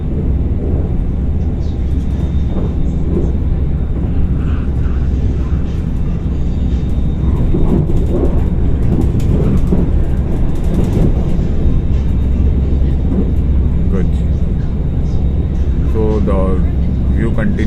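Steady rumble of an airport rail train from Kuala Lumpur International Airport to KL Sentral, a constant low rolling drone with faint rattles lasting throughout, with soft talk in the carriage.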